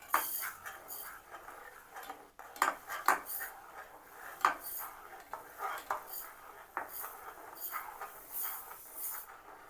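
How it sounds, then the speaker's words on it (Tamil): Metal ladle stirring sago pearls in a pot for Sri Lankan sago halwa, giving repeated scraping clinks and clatters at an uneven rhythm, close and moderately loud, with no talking. "சவ்வரிசியை சேர்த்து கொஞ்சம் கொஞ்சமாக சவ்வரிசியை சேர்த்துக்கொண்டு ஒரு கையால் கரண்டியால் கிளறி விட்டு"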